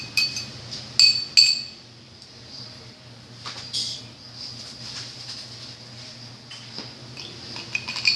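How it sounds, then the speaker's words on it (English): Quick clinks of a spoon against a glass as an orgeat syrup drink is stirred, a few sharp taps early on, then softer scraping, quiet and close with no speech. "And then I'm just going to give it a quick little stir, because we want to emulsify that"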